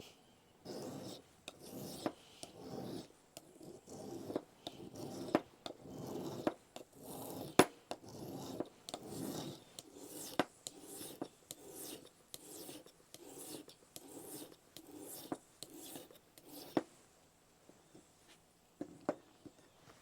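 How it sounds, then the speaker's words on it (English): Close, quiet rasping strokes of a Mora knife being sharpened, a steady rhythm of roughly one scrape per second repeated about twenty times, then a brief pause and a few lighter strokes. "sharpening a knife is not my strongest suit"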